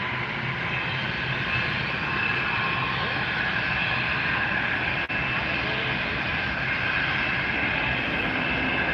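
Jet engines on a cargo aircraft spool up at night at Miami airport, producing a steady, dense roar with a whining upper edge that holds evenly throughout, close and loud.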